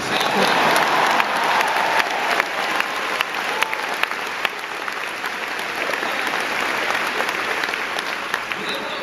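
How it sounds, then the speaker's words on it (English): A large audience at a University of Virginia graduation speech claps continuously for several seconds, a dense, steady wash of applause with no break. "A round of applause for those paying out-of-state tuition."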